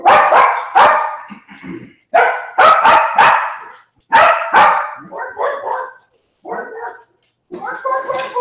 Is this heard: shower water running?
no